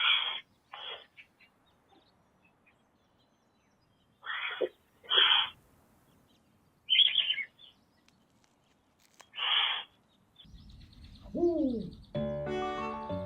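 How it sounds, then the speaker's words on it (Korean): Eurasian eagle-owls call back and forth in daytime with a series of short, faint raspy calls separated by pauses, followed near the end by a lower, drawn-out tonal call. "수리부엉이는 낮에도 수시로 울음을 주고받습니다."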